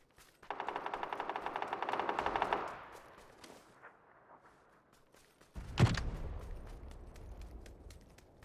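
Gunfire in the battle royale game PUBG: a rapid, fairly close automatic burst of about two seconds, then a quieter gap and a single sharp, heavy shot or blast that fades out.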